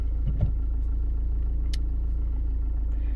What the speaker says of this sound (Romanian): Dar să vedem cum pornește